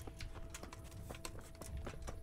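Horse hooves clip-clopping at a steady walking pace, soft and fairly faint, with a low hum in the background, in the video game Kingdom Come: Deliverance.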